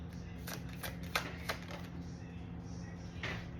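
Playing cards being shuffled in a few quick riffling bursts over a steady hum, close and moderately loud.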